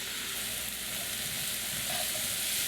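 Ground beef sizzles and fries steadily in its own pan, a continuous crackling hiss at moderate level, close by, with no talk.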